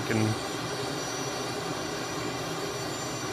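Simulated jet engine of a Canadair CT-114 Tutor at full throttle in a VR flight simulator, a steady, even broadband roar with a faint whine held throughout, and a brief murmur at the start.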